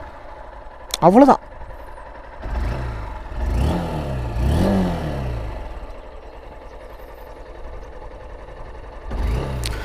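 Honda Unicorn 160 motorcycle with a BS6 engine starting and revving, heard as a short electric-start whine and catch, then a close engine rising and falling through a few revs before settling to idle, with someone speaking over it.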